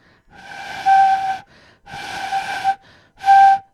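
Three breathy, airy blows on a bansuri-style flute with a faint whistling tone, most of the air escaping outside the blowing hole.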